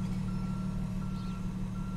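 A truck backing up sounds its reversing alarm, a thin, evenly spaced beep repeating over a steady low engine rumble, moderately distant and fairly quiet.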